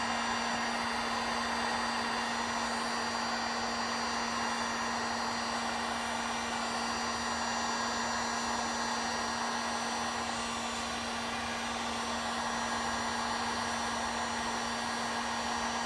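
A Harbor Freight plastic welder runs steadily on a split black plastic tractor fender flare, giving a continuous airy hot-air blower hiss with a constant electrical hum underneath, close and unbroken throughout.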